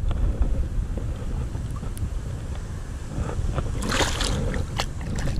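Wind buffets the microphone while drifting in a kayak along a canal bank, a continuous rough rumble with small knocks and splashes, no voices.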